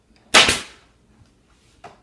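A staple gun drives a staple through swag fabric into a mounting board, giving one sharp, close snap followed by a fainter second click a moment later in an otherwise quiet room.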